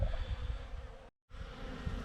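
Dense buzzing hum of honey bees at a Nolde Forest hive, close and continuous, cut by a brief silent gap midway.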